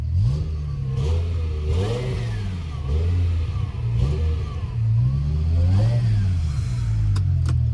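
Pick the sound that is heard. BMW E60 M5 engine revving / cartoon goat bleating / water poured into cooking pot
BMW E60 M5 engine revving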